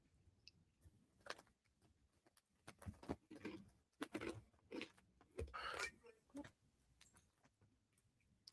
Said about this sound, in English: I hope y'all don't hear the crunching. I'm enjoying a little bag of Funyuns.